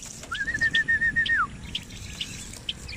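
A pet crow (uwak) gives a single drawn-out call, close and fairly clear, followed by a few faint chirps.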